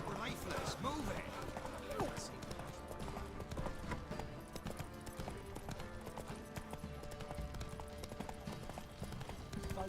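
Hooves of the horse Roach clop rhythmically in The Witcher 3 as it gallops at a steady pace, with game music and effects underneath and someone speaking over it.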